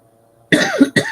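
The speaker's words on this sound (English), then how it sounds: "I was going to mute my mic to cough" A single person's cough, two sharp, close bursts in quick succession following a brief near-silent pause.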